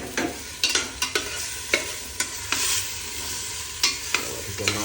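Coriander and cumin powder frying in a pot for a puffed-rice fish-head curry, a steady close sizzle punctuated by repeated spatula scrapes and knocks against the pan at a brisk, uneven rhythm, with no one speaking.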